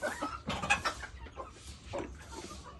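Chickens on a small farm cluck in short, scattered bursts close by, with a few sharper calls amid quiet gaps.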